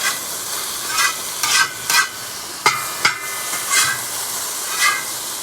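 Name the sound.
stir-frying green beans sizzling in hot cowboy wok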